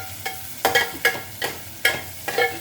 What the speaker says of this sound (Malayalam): അതിന് നമ്മൾ അല്പം ഉള്ളി വഴറ്റിയെടുക്കുന്നു